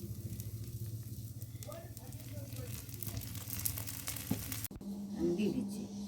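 Bean pitha, a rice cake, sizzling and frying in oil on a pan, a steady soft hiss beneath a low background hum, with a brief louder crackle near the end.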